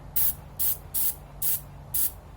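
Durablue coating is sprayed onto Savage/Fox Model B gun parts in five short, even hissing bursts about half a second apart, close and light over a faint low hum.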